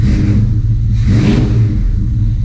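Close, loud engine of a 1972 Chevrolet C10 pickup running steadily in a garage, with a deep low rumble and a brief rise in revs near the middle.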